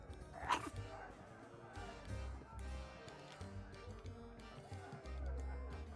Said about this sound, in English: Something might make this dog give up his bone.